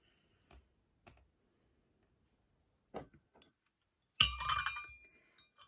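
A few faint, scattered taps, then one brighter clink with a short, thin ringing tail, like tapping delicate porcelain in a quiet room; a thin 1950s Polonne porcelain cup from a rare tea set.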